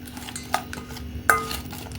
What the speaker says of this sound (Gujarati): તો હલાવી લીધું છે